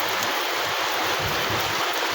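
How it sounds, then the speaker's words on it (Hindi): Rain pouring in Basti district, Uttar Pradesh, a loud, dense, continuous hiss of falling water close by with no voices. "आज हमारे बस्ती में बारिश हो रहा है"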